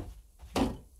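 One dull, solid thunk of a door being struck as someone tries to break it in the video game DYSMANTLE, a single loud impact over quiet background, with no speech.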